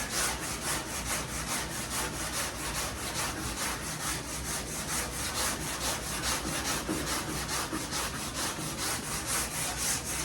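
A Dura-Block sanding block rubs guide coat off a car body panel in rapid, even back-and-forth strokes, a loud, close, continuous rasping rhythm with no talking.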